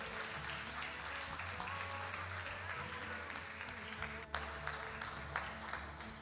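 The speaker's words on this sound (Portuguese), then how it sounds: "Aplauda Ele, queridos." A church congregation applauds during a Portuguese-language worship service, steady clapping filling the room over a low hum of music, with voices audible underneath and a few sharper claps standing out near the end.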